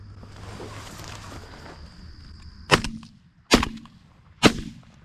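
Three loud, sharp shotgun blasts during a goose hunt, spaced about a second apart, each cracking out over a steady outdoor background after a quieter stretch.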